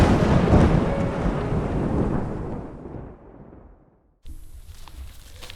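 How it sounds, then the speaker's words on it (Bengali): A cartoon thunderstorm with rain, a loud rumbling roar of thunder and rain that fades away, cuts briefly to silence, then returns as quieter steady rain. "ততক্ষণে ঝড় একটু কমে এসেছে, কিন্তু বৃষ্টি তখনও পড়ছে।"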